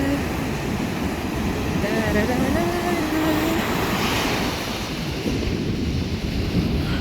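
Rough surf rolls in at Gwangalli beach as a constant washing roar, with a voice humming a tune over it for a few seconds.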